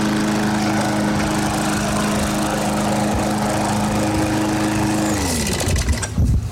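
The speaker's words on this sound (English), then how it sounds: "See, it runs perfect." A warmed-up Briggs and Stratton lawn mower engine runs loud and steady up close after a carburetor fix, then winds down and cuts off near the end.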